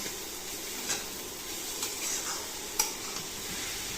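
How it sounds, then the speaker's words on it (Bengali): Carrots cooking with sugar for carrot halwa give off a faint, steady sizzle, broken by a few soft scrapes of stirring at intervals. "এখন গাজরটাকে ততক্ষণ অবধি ভাজবো যতক্ষণ অবধি ভালোভাবে চিনিটা গলে যাচ্ছে।"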